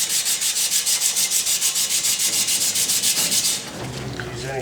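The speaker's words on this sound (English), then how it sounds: "Use any kind of sandpaper," Sandpaper of 120 grit scrubs a pipe clean before soldering on a gas water heater install, making fast, even rhythmic rasping strokes up close for about three and a half seconds before stopping.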